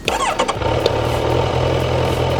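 A Kawasaki Ninja 1000 motorcycle engine cranks and catches, then settles into a low, steady idle, close and loud.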